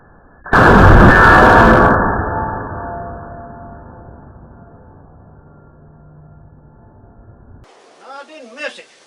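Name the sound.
44 Magnum revolver gunshots at steel target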